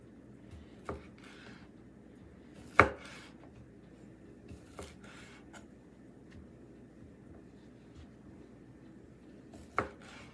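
A knife chops through smoked sausage for gumbo on a cutting board, a few sharp isolated cuts spaced several seconds apart over a quiet kitchen background hum.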